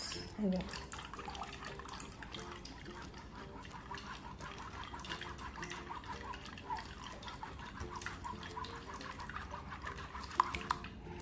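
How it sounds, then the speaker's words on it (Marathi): Watermelon juice trickles through a sieve, a faint steady patter of dripping and pouring liquid close by, with soft clinks, heard without speech. "तसं गाळणीने गाळून घ्यायचा आहे ज्यूस"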